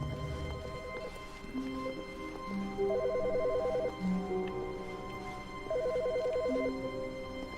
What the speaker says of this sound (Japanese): 電話鳴ってるやん。